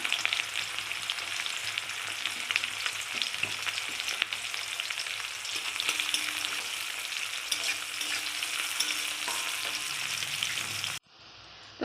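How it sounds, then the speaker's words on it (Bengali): Chopped onions sizzle in white oil with cumin seeds in a wok, a steady bright crackling fry with occasional stirring clatter, close and loud, ending abruptly. "দেখো পেঁয়াজটা এরকম ভাজা হবে"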